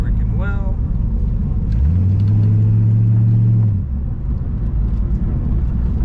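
A 1936 Chevrolet Master Coupe engine hums low and steady, swelling into a stronger rumble for a couple of seconds before settling back, with some speech over it.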